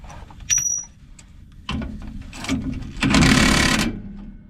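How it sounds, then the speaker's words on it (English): Cordless impact wrench on an extension zipping bolts off a trailer, short whirring bursts with a longer loud rattling burst near the end, close by among clanks and pauses. "I got an extension on the impact. We will zing these back bolts off."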